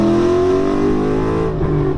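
A Ford Mustang engine revving hard in second gear, a loud, close, sustained roar that climbs steadily in pitch before easing off near the end.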